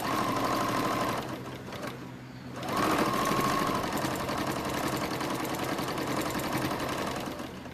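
A sewing machine stitches fabric bats in a steady, rapid run up close, pausing briefly around the two-second mark before resuming its continuous whirring rhythm with no talk.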